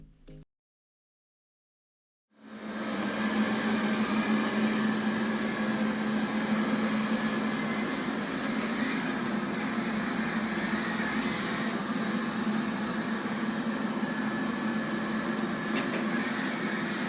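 A 360 S9 robot vacuum cleaner starts after a moment of silence and then runs with a steady, even motor whir and airy suction hiss at moderate level, alone with no talk.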